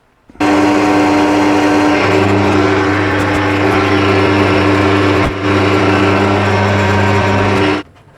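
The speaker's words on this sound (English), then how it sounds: "For that I'm going to use a Forstner bit." A steady, loud power-tool whine runs continuously for several seconds with a brief dip near the end, a Forstner bit drilling through material, no talking.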